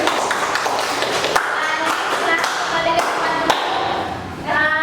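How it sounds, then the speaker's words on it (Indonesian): A classroom of students claps for a group presentation, steady scattered hand claps and thumps close by, with voices underneath. "Kita beri tepuk tangan dulu."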